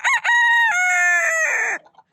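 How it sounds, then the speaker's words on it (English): A pet rooster crows once, loud and close, during wing clipping and toenail trimming: a short rising call followed by a long sustained cock-a-doodle-doo that trails off. "he's about to crow."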